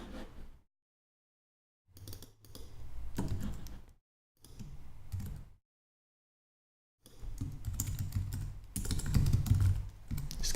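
Typing on a computer keyboard, with bursts of quick clicking keystrokes separated by short silent pauses, close and clear with no talk.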